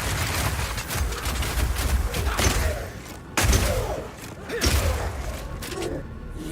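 A video game ranged skill, Rapid Shot, fires permafrost ammo in a rapid volley of crunchy, percussive shots and icy thuds, loud and dense, with a heavy impact burst partway through.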